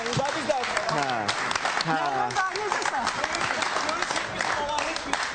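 A studio audience at a television talk show claps in a continuous burst of applause, with voices and a few cheers mixed over the clapping.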